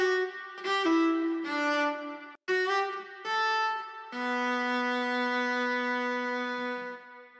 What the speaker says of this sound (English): And then this lead line that kind of pulls everything together.